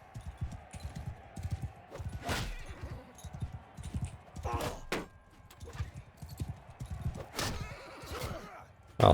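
Horses in the Mount & Blade II: Bannerlord video game neigh and whinny in several sharp bursts over a rapid patter of clip-clopping hooves, with faint talk mixed in.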